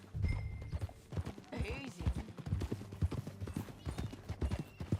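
Horse hooves clip-clop steadily and close at a walking pace in the video game Red Dead Redemption 2, with a horse snort and brief speech from riders over the rhythmic hoofbeats.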